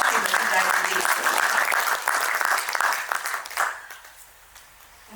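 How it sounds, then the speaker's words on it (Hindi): An audience at a book launch ceremony breaks into loud, sustained applause to welcome a woman guest to the stage, a dense wash of clapping that fades out after about four seconds. "जोरदार तालियों से स्वागत किया जाए"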